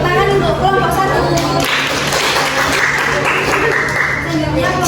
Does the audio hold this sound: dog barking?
no